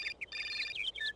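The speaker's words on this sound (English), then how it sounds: "Oh, phone's ringing." A phone in the Syberia video game rings with a quick, faint electronic warble of short bright chirping tones, alone without talk.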